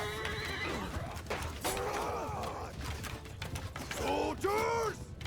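Horses whinny and clip-clop amid the clash of a cavalry battle in Mount & Blade II: Bannerlord, with a shrill neigh near the start and two loud, rising whinnies close by toward the end.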